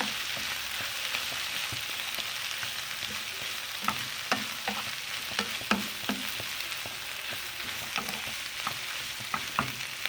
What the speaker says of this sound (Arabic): نحط فلفل الرومي، هنحركه شوي مع البصل